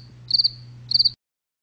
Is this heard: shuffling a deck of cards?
no